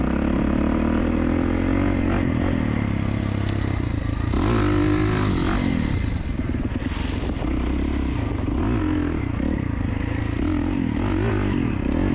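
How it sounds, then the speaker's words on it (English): A 2024 Kawasaki KX450 dirt bike on its first ride, engine loud and close, revving up and down repeatedly with wavering pitch and some clatter throughout. "I picked up a fresh 24 KX450. Let's take her out for a spin."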